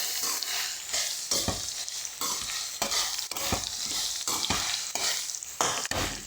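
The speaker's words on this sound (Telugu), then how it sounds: "ఇప్పుడు అన్నీ కలిపి మిక్స్ చేసుకున్నాం." Maggi noodles with masala and tomato sauce are stirred around a hot pan, giving a close, continuous sizzle broken by rhythmic scraping strokes of a spatula about every half second, with no voices.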